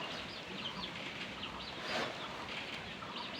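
Faint, high chirping peeps from a group of chicken chicks, repeated in quick irregular bursts against a soft background hiss.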